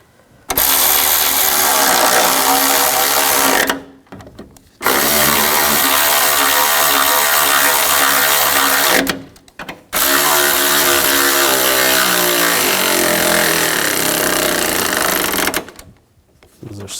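Power tool tightening bolts on the water control valve of a 2004-2009 Toyota Prius, three long, loud, steady whirring runs of several seconds each, separated by short silent gaps, very close.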